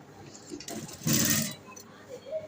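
Sewing machine stitching trouser fabric, a short burst of whirring needle motor lasting about half a second amid quieter handling noises and light clatter.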